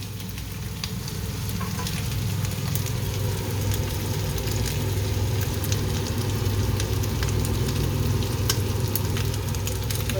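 Chopped onions frying with dried fish in a pan for a South Indian dried-fish dish: a steady, dense sizzle and crackle that holds evenly throughout, close and fairly loud, with no voices.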